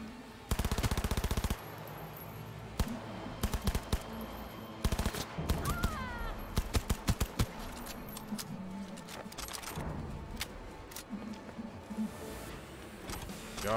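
Submachine gun fire from Cyberpunk 2077 rattles out in rapid bursts, one long opening burst and then shorter stuttering strings of shots, with mechanical clatter and clinks between volleys.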